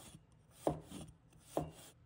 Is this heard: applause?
no